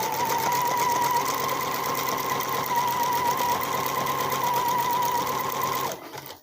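A domestic sewing machine stitches stretched elastic onto fabric for sewn panties, a close, fast, steady mechanical whirr with a high humming tone that runs continuously for about six seconds before stopping abruptly.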